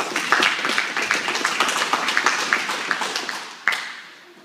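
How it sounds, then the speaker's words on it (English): Applause from an audience at a kickboxing promotion event at a martial arts school, dense steady clapping over four seconds that thins and fades after a final louder burst. "guys, round of applause"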